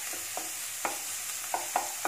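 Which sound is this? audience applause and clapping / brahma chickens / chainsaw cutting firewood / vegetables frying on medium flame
vegetables frying on medium flame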